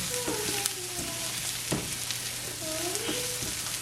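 A stuffing mixture for stuffed capsicum curry sautéing in a pan, a constant close sizzle with a few spoon taps and some tonal squeaks from the pan, no talk.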